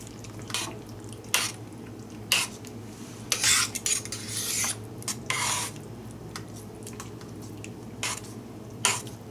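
Chicken and celery pasta being stirred in a crock pot, a series of wet scrapes and spoon knocks in irregular bursts, close and clear over a low hum, no talking.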